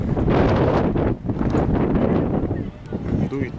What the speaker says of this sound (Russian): Дует ветер, глаза попадает